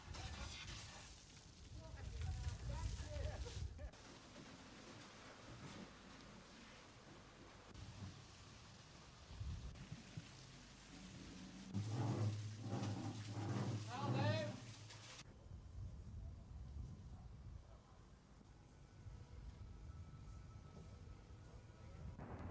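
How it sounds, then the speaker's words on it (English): Heavy rain pours down in very strong wind, gusts buffeting the microphone in rumbling bursts, recorded in the UK in 1987, loudest midway before the roar drops to a quieter hiss. "In pouring rain, with a very strong wind producing camera-shaken wind noise"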